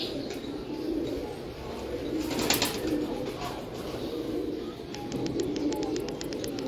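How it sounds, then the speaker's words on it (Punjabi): Pigeons coo in a soft, repeated murmur with a few sharper chirps mixed in, fairly close and steady across the whole stretch, with no clear voices. "ਇਹਨਾਂ ਨੂੰ ਕੀ ਕਹਿੰਦੇ ਹੋ ਤੁਸੀਂ ਇਹ ਵੀ ਬਟੇਰੇ ਕਬੂਤਰ ਨੇ"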